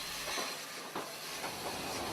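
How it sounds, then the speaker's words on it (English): A Class 37 diesel locomotive passes under a colliery line, closely followed by the steam locomotive Nora hauling a train of coal, giving a steady broadband hiss and rumble with faint rhythmic clatter. "a Class 37 passes under the NCB line, closely followed by Nora with a train of coal ready for dispatch"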